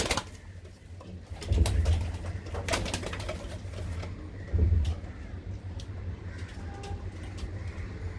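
Pigeons in a loft coo in low, throaty bursts, with two louder nearby coos standing out over a quieter steady background of birds and faint clatter.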